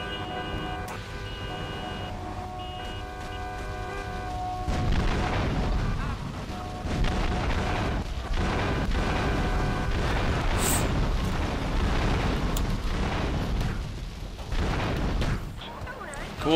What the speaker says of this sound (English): I thought I saw a grenade getting thrown at me.